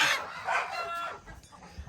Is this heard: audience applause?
no